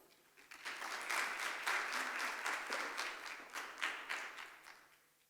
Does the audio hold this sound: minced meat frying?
no